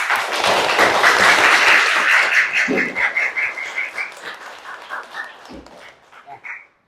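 Students in a classroom clap together at the end of an Islamic religious education lesson, a dense burst of hand claps that starts loud and thins out over several seconds, with a few scattered voices.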